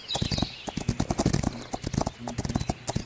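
Horse hooves galloping in the video game Rival Stars Horse Racing: a rapid, steady drumming of hoofbeats, close and fairly loud, continuing throughout while someone talks over it.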